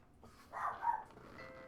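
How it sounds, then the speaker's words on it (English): A short, muffled dog bark or two from some distance at a delivery arrival, faint against a quiet room. "that's my psychotic dog"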